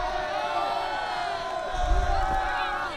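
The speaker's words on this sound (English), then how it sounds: "And the crowd is fired up on this one" Crowd cheering and shouting at a girls high school soccer game on senior night, a steady roar of voices that swells louder toward the end, with an announcer's voice over it.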